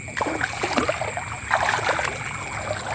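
Water flowing in a small stream around a fish trap, a close gurgling trickle with splashy bursts, moderately loud and steady through the short stretch.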